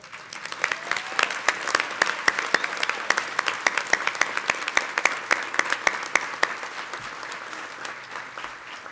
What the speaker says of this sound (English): I'd like to ask you to stand up together so we can really applaud you